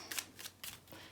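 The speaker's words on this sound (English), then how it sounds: "It can be a little funny to shuffle as well." A small tarot deck being shuffled by hand, heard as four soft, brief papery riffles spaced evenly apart, quiet and close with no talking.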